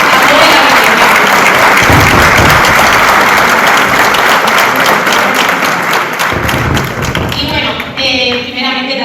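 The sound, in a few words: loud applause in a library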